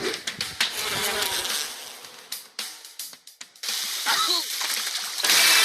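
Buzzing bees mixed with splashy bursts and popping effects from a game, dense and busy, with a voice talking over parts of it.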